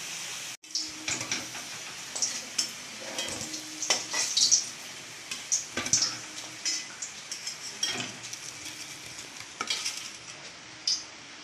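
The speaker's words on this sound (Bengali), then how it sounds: "মাংসের আলুগুলোকে আমি লাল লাল করে ভেজে তুলে নেব।" Potatoes for a meat curry fry quietly in a pan, a soft hiss punctuated by frequent clinks and scrapes of a stirring utensil against the metal.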